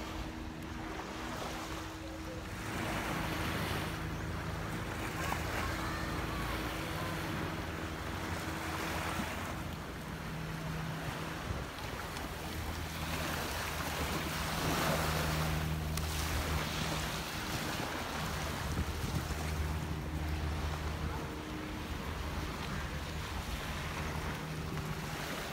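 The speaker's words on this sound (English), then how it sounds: "It's a beautiful Christmas day on the beach." Low-tide waves washing onto a beach in Boracay on Christmas Day, a continuous surf wash with gentle swells and some wind buffeting the microphone.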